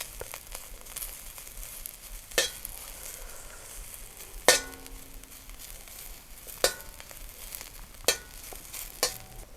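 Mushrooms frying in a pan for a tofu dish, a soft steady sizzle broken by sharp clinks and scrapes of a utensil stirring at intervals, close and fairly quiet.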